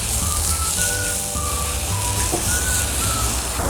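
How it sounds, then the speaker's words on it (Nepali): Chives sizzle and crackle steadily in a hot pan while quail curry is being made, a close, continuous frying hiss with faint tonal beeps over it and no talking. "अब छ्यापीलाई एकछिन भुटौँ।"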